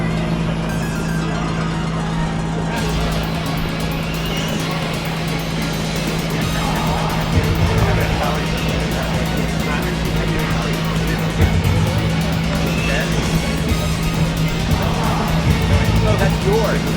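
Tamiya M-07R radio-controlled cars run a three-car M class main race, their motors a continuous buzzing whine that rises and falls as they lap. A commentator talks throughout.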